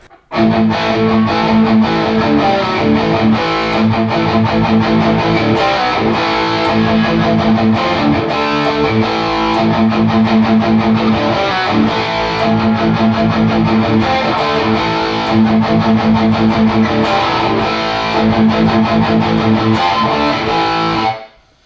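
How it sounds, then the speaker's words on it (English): Heavily distorted electric guitar from a Pango Music Flying V kit guitar played loud and continuous, dry with no reverb or delay, chugging riffs with crunchy high-gain tone and no other instruments or voices. "let's go ahead and run through some gain sounds now"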